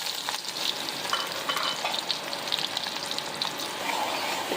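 Onions fry in hot oil in a kadai with a dense, steady sizzle and a few small crackles and pops throughout. The sound is close and even, with no voices.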